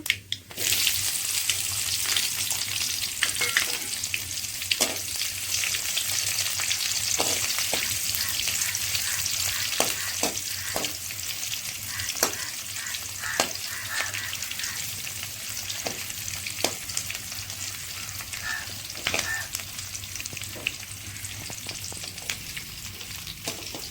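Onions frying in a pan for uggani give a continuous crackling sizzle, with repeated spatula scrapes and clicks spread through the stretch, close and moderately loud.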